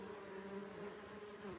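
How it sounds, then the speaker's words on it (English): Small bees buzz steadily near a lake shore in the Temagami backcountry, a continuous droning hum with a wavering pitch that holds throughout, close and moderately loud with no talking. "The little bees."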